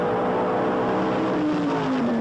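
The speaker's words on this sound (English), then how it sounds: "A good start by both cars." Engines roar continuously as drag racing cars, including a Chevrolet Biscayne, accelerate hard at the 1978 NHRA Sportsnationals, a droning motor pitch shifting lower as the cars pull away.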